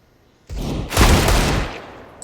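A burst of close, loud gunfire from a round of Counter-Strike in a competitive ESEA match, starting with a sharp onset, then a denser volley that rings out and decays.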